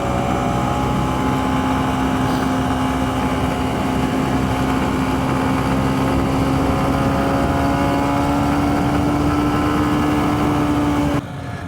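A 2023 Honda CB125F with a Yuminashi 28mm throttle body drones steadily while riding, its engine note holding a constant, slowly rising hum with wind roar, loud and close throughout.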